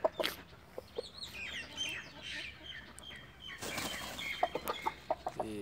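An Aseel Kandhari hen clucks in short bursts nearby, with a flurry of wing flapping midway and a quick run of sharper clucks toward the end over a quiet outdoor background.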